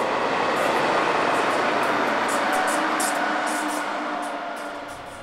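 An Opel works locomotive hauling a train through a station between the Rhineland and the Ruhr, a steady loud rolling rumble with rail noise throughout that slowly fades toward the end, no voices.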